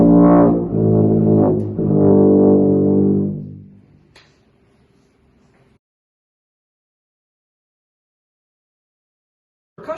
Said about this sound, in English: the tuba is one of the largest instruments in the band. It produces low notes